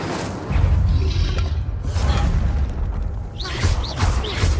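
An Incendio fire spell cast in Hogwarts Legacy gives a loud roaring whoosh with a low rumble, followed by crackling, chirping magical effects over steady game ambience.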